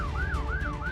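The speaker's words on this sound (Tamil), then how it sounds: "sometimes medical emergencies with heavy traffic இருக்கும்போது நம்மளுக்கு இந்த மாதிரி ஒரு சைரன் கேட்கும்" An ambulance siren wails in a smooth rising and falling sweep, repeating about three times, loud and close with no voices.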